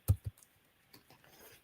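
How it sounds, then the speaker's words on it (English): Two sharp keystrokes on a computer keyboard at an open-source software group meeting, followed by a few fainter scattered clicks in a quiet room. "I'll try typing and see if it works."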